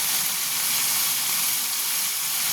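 Steady, loud hissing sizzle of turmeric powder hitting a hot pan of oil, continuous and close with no break.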